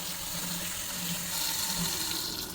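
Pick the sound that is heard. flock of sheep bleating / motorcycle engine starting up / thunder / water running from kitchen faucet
water running from kitchen faucet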